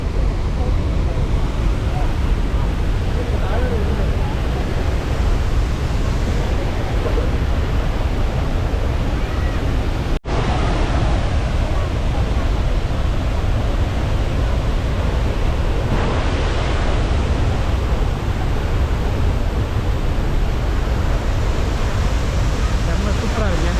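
Athirappilly waterfall roars as a dense, constant wash of rushing water heard from close by, loud and unbroken throughout, with a brief dropout near the middle and voices faintly mixed in.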